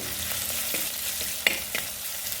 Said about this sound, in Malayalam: വെളിച്ചെണ്ണ ഇതിലേക്ക് ഒഴിച്ചു കേട്ടോ ഇഞ്ചി വെളുത്തുള്ളി എല്ലാം അതിനകത്തേക്ക് ഇട്ട് കേട്ടോ